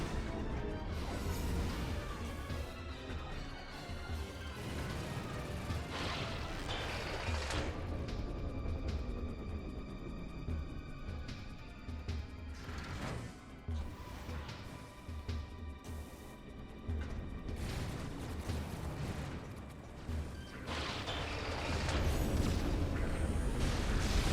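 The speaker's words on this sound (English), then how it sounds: "Holy explosions." Loud, dense explosions and crashing blasts in the sci-fi shooter Metroid Prime 3, a continuous barrage of booms and debris running the whole stretch with layered game effects and music.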